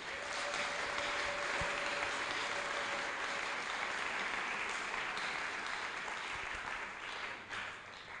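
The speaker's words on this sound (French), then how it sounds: "Nous acclamons pour la parole de Dieu." A congregation claps in church during a French-language worship service, with a soft, continuous patter of applause heard from a distance and slowly fading toward the end.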